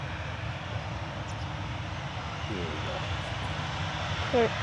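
A plane at Manchester Airport builds a steady, even engine roar as it takes off, distant and continuous, with a person speaking softly over it.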